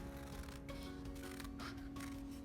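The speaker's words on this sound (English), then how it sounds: "take your scissors and we're gonna cut this out" Scissors snip through paper while cutting out a paper cross, a rapid run of crisp cuts over a steady background hum, with no talking.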